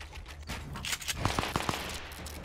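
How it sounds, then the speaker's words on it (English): Gunfire in a video game battle royale match, a cluster of sharp shots in quick succession near the middle, heard over steady game ambience with no talking. "we got gunshots near us"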